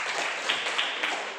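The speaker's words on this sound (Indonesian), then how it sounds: "Beri aplaus dulu." A classroom of students claps together in a brief, even burst of applause, moderately loud and close, with a few sharper claps standing out.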